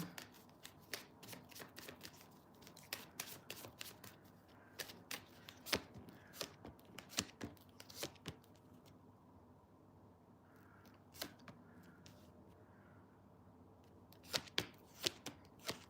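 Tarot cards are shuffled and flicked repeatedly, crisp rapid riffles and taps in irregular bursts, close and fairly quiet with no talking.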